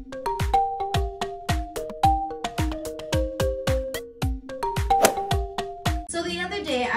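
A bright notification bell sound effect chimes in a quick run of ringing tones, loud and clear, followed by a short burst of noise at the end.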